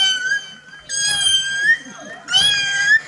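A voice imitates a small kitten with three short, high, squeaky meows in a rhythmic sequence, close and clear.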